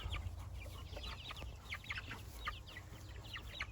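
Meat chickens dust bathing give soft, scattered clucks and murmurs, quiet and close, in irregular short bursts over a low background hum.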